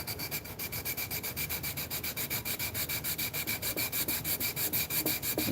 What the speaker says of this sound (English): Those little sander handles are dope.